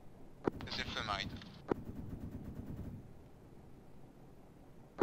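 Gunfire in the combat game Arma 3 passing overhead: a few sharp, isolated cracks spaced seconds apart over a low rumbling backdrop, with someone talking throughout.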